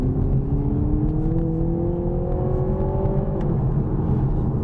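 A 2021 Toyota GR Supra's 2.0-litre four-cylinder turbo engine hums steadily and rises in pitch as it accelerates on slick roads, with constant road rumble from inside the cabin.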